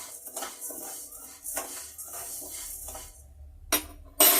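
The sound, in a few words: stirring lentils as they roast in a pan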